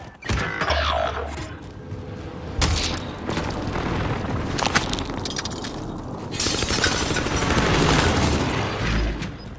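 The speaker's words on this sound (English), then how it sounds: "Enemy precision airstrike." Enemy precision airstrike in Call of Duty: Modern Warfare: a loud, dense run of booming explosions with shattering debris, rolling continuously for nearly ten seconds with repeated heavy impacts.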